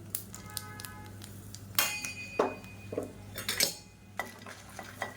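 Dry red chillies roast in a pan, with irregular metallic clinks and scrapes from a spoon stirring against the pan over a steady low hum.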